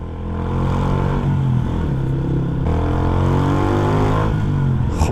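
A Yamaha MT125 motorcycle fitted with an exhaust baffle rides along a road, its engine a close, loud, buzzing drone that rises and falls in pitch as the throttle is worked.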